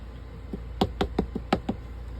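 A quick series of about seven sharp knocks, irregularly spaced, as a journal is slammed down on a hard tabletop, close and fairly loud.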